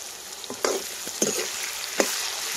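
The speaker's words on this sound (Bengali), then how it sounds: "আর এদিকে আলু ভাজা চলছে।" Potatoes fry in a pan beside fish being cooked, a continuous close sizzle of hot oil punctuated by a few soft knocks and stirring sounds.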